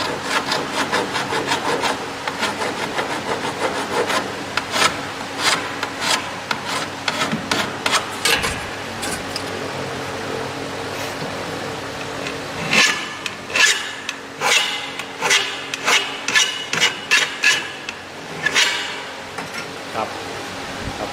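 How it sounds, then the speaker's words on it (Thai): Hand file rasping along a marked line on an aluminium window frame, giving a steady run of scraping strokes that grows denser and more rhythmic in the second half, close and fairly loud. "จากนั้นเราก็จะทำการตะไบนะครับ การตะไบ ตามที่ เราขีดไว้"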